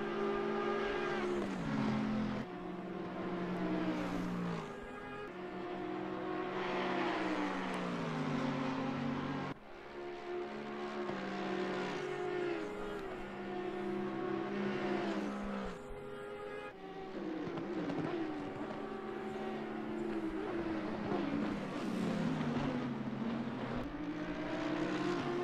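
Race car engines in the Assetto Corsa Competizione racing game scream loudly through repeated upshifts and downshifts, with the revs rising and dropping in a continuous run of gear changes and no talk.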